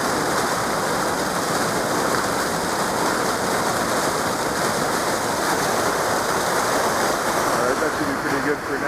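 A Swiss waterfall rushes and splashes in a loud, steady roar that fills the whole clip, heard up close.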